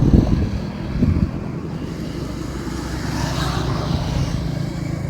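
Cars pass on a road by a bridge in Davao City, a steady low traffic rumble with heavy wind buffeting the microphone, louder at the start and then a continuous hiss of passing vehicles.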